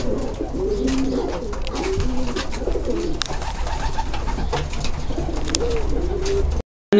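Racing pigeons coo in soft repeated rolling calls, close by and steady over a constant low background hum, with no talking.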